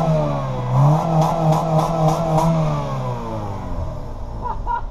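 A Honda Civic engine with a muffler duct-taped on revs up and settles back in a few smooth swells, near and fairly loud, then drops to a steady idle, with no talk.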